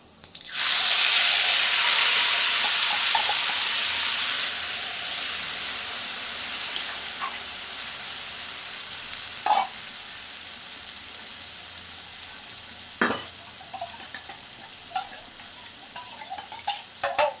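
Prawns dropped into hot oil for a Bengali chingri posto dish set off a loud, steady sizzle that starts strong and slowly settles, with a few sharp clinks and stirring scrapes near the end.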